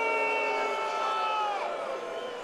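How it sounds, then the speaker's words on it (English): Crowd at a DCS 85 fight event reacting loudly in disapproval after a low blow stops the action, a dense, sustained roar of voices with rising jeers and whistles filling the arena. "Crowd does not like it."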